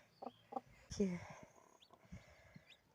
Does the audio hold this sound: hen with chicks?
yes